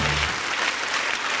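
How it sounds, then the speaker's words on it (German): Applause from an audience at a Swiss rural television finale honoring the women's national tug-of-war team, a dense steady wash of clapping filling the whole stretch. "Das ist euer Applaus."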